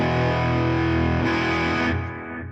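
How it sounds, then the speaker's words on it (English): An electric guitar played through a Hotone Ampero amp modeler with a room reverb effect rings out as a loud, distorted sustained chord, changing once midway and then decaying with a short room tail. "Let's go over to the reverb and let's turn that on, and it's set to a room."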